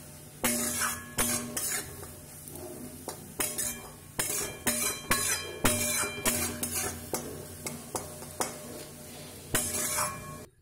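Onion and a dried chili frying in oil in a pan, a steady sizzle under repeated clinks and scrapes of a stirring spoon, close, with no talk.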